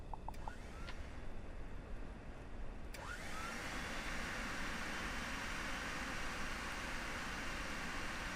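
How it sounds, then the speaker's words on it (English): A vacuum cleaner in a life simulation video game drones with a steady, even whir, with faint short tones near the start. "Enough with the vacuuming, Lori."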